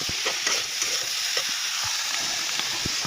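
Cauliflower and potatoes with salt and turmeric frying in a pan, a continuous close sizzle broken by repeated scraping stirs.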